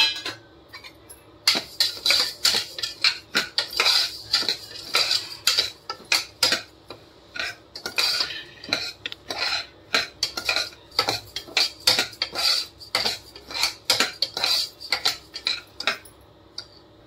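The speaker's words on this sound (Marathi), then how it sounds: "त्याच्यात टाकूया लापशी, थोडीशी हलकीशी परतून घेऊया आपण।" Lapsi (broken wheat) stirred and lightly roasted in a pan for makhana lapsi, with a spoon scraping and clinking against the metal in a steady, close rhythm of sharp ticks running throughout.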